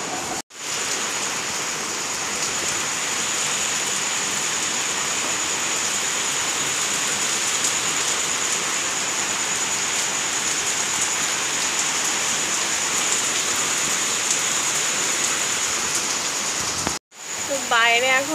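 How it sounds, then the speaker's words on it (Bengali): Steady heavy rain pouring down outdoors, a dense continuous hiss of drops on surfaces, loud and unbroken, cutting off sharply just before the end. "চলো দেখো বৃষ্টি পড়ছে।"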